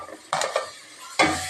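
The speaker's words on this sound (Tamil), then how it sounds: "வெங்காயத்தை சேர்த்து நல்லா வதக்கணும்." Onions sautéing in hot oil for a fish curry, with three loud scraping stirs against the pan amid a faint steady sizzle, no talk.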